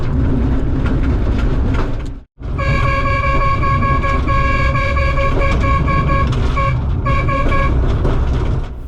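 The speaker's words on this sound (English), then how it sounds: "the constant honking when people walk alongside the tracks or when the train approaches a level crossing" A nearly century-old Malaxa railcar on a Romanian railway sounds its horn in long sustained blasts with a brief pause between, loud and close over the rumble of the moving train.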